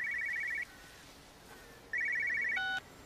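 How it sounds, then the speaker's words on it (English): A telephone rings in the video game Everybody's Gone To Rapture: two trilling bursts of a bell-like ringer separated by a pause, fairly clear over a low hiss, closing with a brief higher tone. "Phone ringer?"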